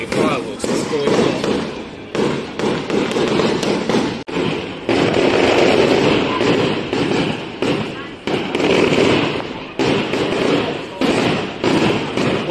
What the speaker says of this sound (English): You might not be able to hear me, fireworks is going on.